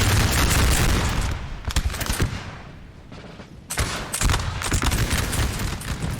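Prussian infantry firing musket volleys in a Napoleonic Total War 3 battle, loud dense crackling bursts of gunfire that break off briefly and then erupt again in a rolling fusillade.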